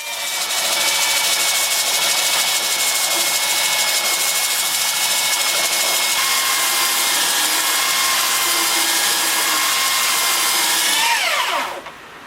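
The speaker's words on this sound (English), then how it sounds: "I'm going to take my belt sander and sand those to clean them up" A belt sander runs on butternut wood with a loud, steady high whine and abrasive hiss held for about eleven seconds, then winds down abruptly as it is switched off.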